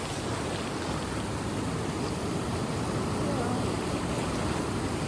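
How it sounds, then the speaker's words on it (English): A flooded river rushes through rapids about five feet above its normal level. The roar is a loud, continuous, broadband wash that holds steady throughout, with no voices heard. "the water is flowing, and it's probably about 5 feet above what it normally is. So it is just, that is pure rapids right there."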